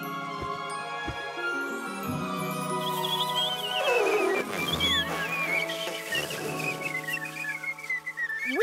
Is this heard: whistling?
yes